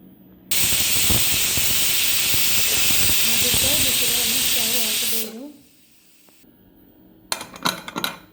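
A pressure cooker cooking soaked dal vents steam in a loud, sustained hiss for several seconds, then falls quiet before some clattering handling noises.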